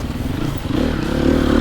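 A Sherco enduro two-stroke or four-stroke motorcycle climbs a familiar hill in the woods, engine note building steadily and growing louder toward the end, with some clatter from the terrain.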